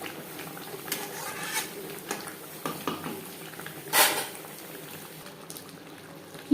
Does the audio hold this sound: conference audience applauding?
no